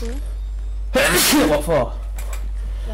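A single sharp sneeze from someone with allergies bursts out near the middle, with a brief voice speaking over the low hum of a game stream.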